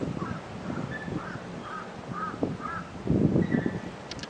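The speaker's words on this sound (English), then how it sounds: "It scared the hell out of me, that crow." Crow cawing repeatedly in a series of harsh calls at an abandoned gas processing plant, fairly close, with footsteps and rustling underneath and a louder scuffing burst near the end.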